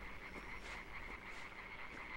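Frogs croak in the dark platform game Limbo, a steady chorus of rapid, raspy croaks that runs evenly throughout, with no talk.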